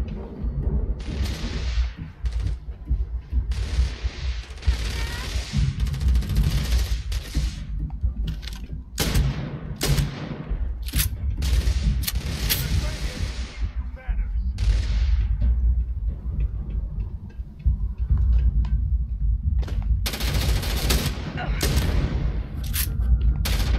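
Weapon fire in Starfield comes as scattered loud shots and bursts, with some heavier booming impacts mixed into a busy battle soundscape, while someone talks over parts of it.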